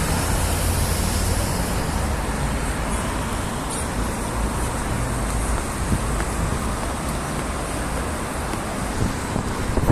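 Steady roadway traffic along a highway in Saudi Arabia, a continuous broadband rumble and wind-blown hiss of passing vehicles at moderate distance, with no distinct individual passes standing out.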